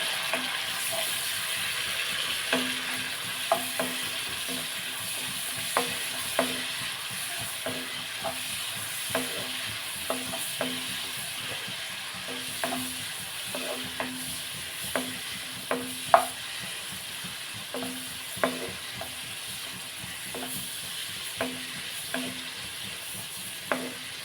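Dried prawns frying in a pan, a steady soft sizzle with regular clicking taps of a spoon stirring, close and moderately quiet with no talk.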